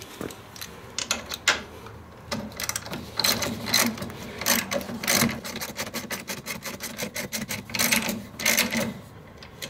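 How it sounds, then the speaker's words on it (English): A 10 mm deep well socket wrench loosens a bolt on a Ski-Doo R-Motion snowmobile suspension. Close ratcheting clicks come in quick bursts separated by short pauses. "we're going to take our 10 mil deep well socket and we're going to loosen off this bolt on both sides about the same amount"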